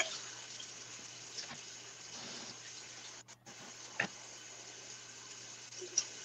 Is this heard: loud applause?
no